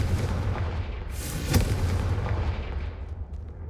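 A Confringo fire spell blast in the video game Hogwarts Legacy: a loud, booming burst that swells sharply near the middle and trails off into a fading rumble, with no talking.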